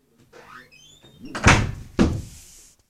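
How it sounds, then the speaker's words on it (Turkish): A door closing indoors in a home, heard as two solid thuds close together near the end, preceded by faint background movement and a brief whistle-like tone. "Ya Gümüş kapıyı kapat"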